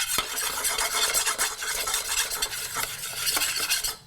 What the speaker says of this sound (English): what I'm going to do is saute some spices, and for that I need coriander powder